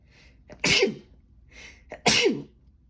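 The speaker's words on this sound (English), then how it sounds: "Hold on, I have to sneeze." Two loud sneezes about a second and a half apart, each with a sharp intake of breath before it, close to the listener with no talking.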